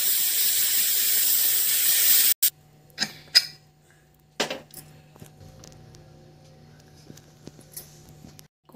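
A pressure cooker cooking beetroot and chana dal lets out a loud, steady hiss of steam for about two seconds, then stops abruptly, followed by a few sharp metallic clinks and quiet kitchen sounds.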